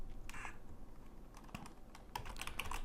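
A computer keyboard being typed on: scattered soft key taps and a quick cluster of clicks near the end, close but quiet, over a faint background hum, no speech.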